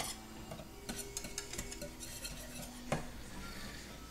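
Chicken sausage mixture stirred in a bowl, with quiet clinks and scrapes of a utensil against the bowl and a brief louder knock near the end, close but soft, no talking.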